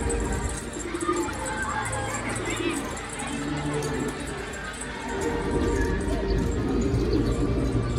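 A flock of pigeons cooing together at a hidden nest, soft overlapping coos and chatter under steady background noise, while someone talks over them.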